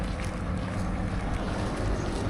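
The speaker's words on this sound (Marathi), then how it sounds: "भरपूर वारा सुटला आहे" Strong wind gusting outdoors at night during a pilgrimage procession, a loud steady rumbling roar buffeting the microphone, with no talk.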